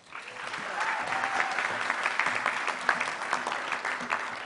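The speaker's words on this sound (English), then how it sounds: "Thank you everyone for such a big applause." A graduation ceremony audience breaks into steady applause, a moderately distant wash of many hands clapping continuously with faint voices underneath.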